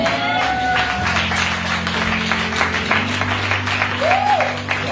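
Applause and a few cheers from a church congregation at a French-language revival meeting, a steady patter of clapping over a low organ or keyboard hum, with brief vocal whoops rising above it.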